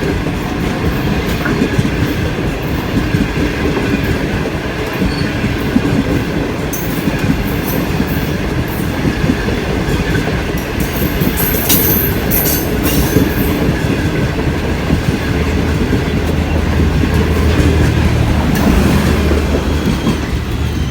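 A non-stop passenger train rolls through Tando Adam railway station in Sindh without stopping, its wheels clattering steadily over the rail joints at close range, with an occasional faint high squeal, the rumble staying loud throughout.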